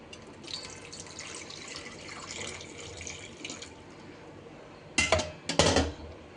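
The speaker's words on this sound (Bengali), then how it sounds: "এটা এখন আমি জল দিয়ে ভিজিয়ে দেব।" Water splashes into a bowl to soak tamarind and spices, with a soft running pour followed by two louder bursts of splashing near the end, close by and without speech.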